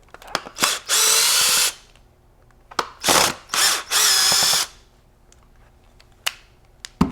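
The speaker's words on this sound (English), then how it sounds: "then a screwdriver or drill" A cordless drill whirs in several short bursts removing screws from a Benelli Montefeltro shotgun, separated by clicks and small clatters, close by with no talking.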